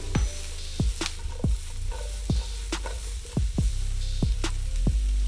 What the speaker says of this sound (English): Now we're gonna add our Brussels sprouts.